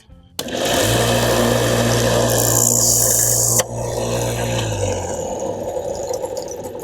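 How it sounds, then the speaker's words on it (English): A belt sander runs loud and steady, trimming a thin blaster kit part for a Blade Runner prop build. The motor drone holds for several seconds, then shifts abruptly and tails off as the machine winds down. "I think I'm just gonna go over to the belt sander to do that"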